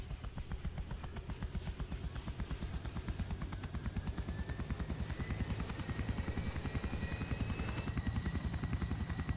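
Helicopter in the military game Arma, a steady rapid rotor chop pulsing evenly with a faint whine above it, close and alone without talk.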